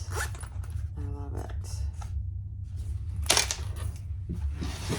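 A zipper runs closed along a handmade Triskele wallet pocket, a close, quick ratcheting rasp with a few short handling clicks and rustles over a steady low hum.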